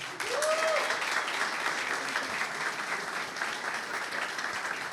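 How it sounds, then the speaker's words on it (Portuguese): Applause fills a crowd at a football-themed talk at Mansão Full Comm, steady clapping from many people throughout, with a brief whistle near the start. "queria que vocês recebessem com uma salva de palmas"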